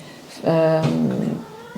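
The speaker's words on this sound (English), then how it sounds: "our cat had something to weigh in on that, but it's a fully AI-generated cat" An AI-generated cat lets out a single drawn-out meow close to the mic. The call bends in pitch partway through and stands alone without speech.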